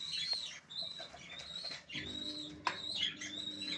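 Pet pigeons kept with a seed feed of sunflower and other grains give faint, high chirping calls that repeat in short bursts across a quiet background.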